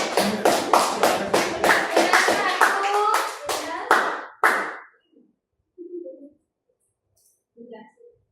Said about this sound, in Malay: Okay, kumpulan 2 dapat 36 markah. Tepuk tangan.